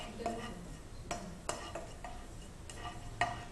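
A hot wok of ingredients popping white like flowers as they're stirred, with irregular scraping strokes and light crackling, fairly faint and close.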